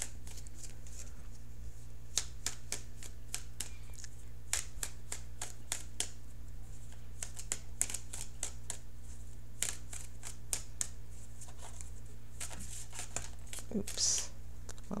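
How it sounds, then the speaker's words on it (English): Tarot cards are shuffled in repeated quick riffles and snaps against a low electrical hum, crisp and close. "So let me shuffle for an outcome card."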